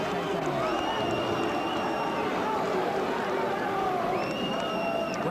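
Wrestling match crowd at the 1993 Dapper Dan event keeps up a dense, steady roar of yelling and shouts from a large arena audience, with a commentator's voice running over it.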